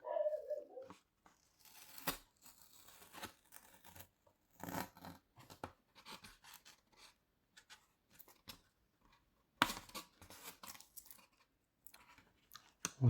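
Tape peeling off a model plane wing, the UMX Night Radian, close and quiet: scattered short tearing rips and crinkles separated by silences.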